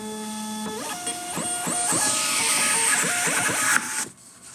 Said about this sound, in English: This is our brand new Dymo printer.